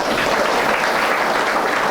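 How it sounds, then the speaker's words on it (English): A crowded audience claps steadily and loudly during a talk on waking up, a dense even wash of applause with no voices over it. "Let us clap"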